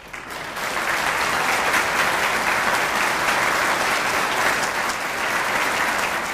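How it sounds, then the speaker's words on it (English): A graduation audience applauds as faculty members stand for recognition, a dense, sustained wash of clapping that swells in within the first half second and holds steady and loud to the end, with no talk over it. "I ask that you applaud them as they stand for this recognition."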